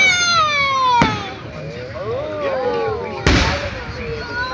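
Fireworks at a marina firework show, with two sharp booming bursts about two seconds apart standing out over a background of voices and whistling, crackling noise.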